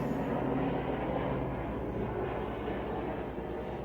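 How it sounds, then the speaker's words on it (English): A Border Patrol helicopter flies overhead as a continuous, fairly loud, rumbling drone with a faint rhythmic beat that holds steady throughout, with no talking. "Sorry about the helicopter, guys."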